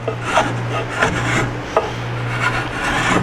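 A carving tool chatters while shaping a wooden ball and claw foot for a Chapin high chest. Close, rhythmic scraping strokes with small clicks ride over a steady low hum.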